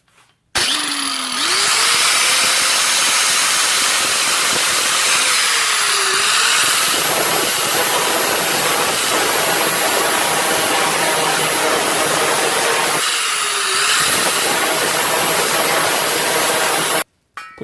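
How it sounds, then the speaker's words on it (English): A grinding wheel grinds down an LS oil pan in a garage. It spins up, then makes a loud, sustained, harsh whine and scraping for about sixteen seconds, briefly winding down and restarting twice, with no talking. "I'm gonna take the grinding wheel and I'm just gonna grind that down"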